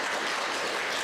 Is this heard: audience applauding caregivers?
yes